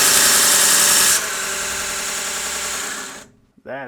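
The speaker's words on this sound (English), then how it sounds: "So that is a very powerful sander." A VEVOR 30 x 1-inch variable speed belt grinder sander runs with a loud, high whining drone that drops slightly in pitch partway through, then cuts off, followed by someone speaking briefly.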